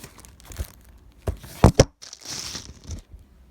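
Plastic bag crinkling up close in short bursts, with a couple of sharper rustles and crackles, no voices.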